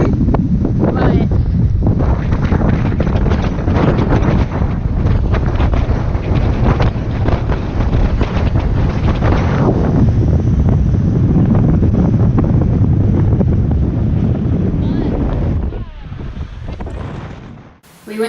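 Strong wind at a fort in Puerto Plata, Dominican Republic, pounds the microphone in a loud, continuous low roar for most of the stretch, then drops away abruptly near the end.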